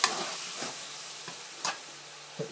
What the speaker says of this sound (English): So I'm going to carry on leaving that to fry up some more.